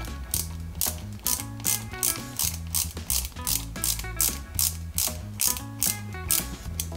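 A small screw is driven into the door handle of a 1/8 scale Alpine A110 1600S model, giving a close, quiet run of rapid ratcheting clicks in steady repeated bursts.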